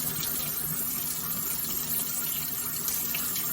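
Hot water runs steadily from a kitchen faucet into the sink, a constant close rushing splash that holds even and unbroken throughout with no one talking.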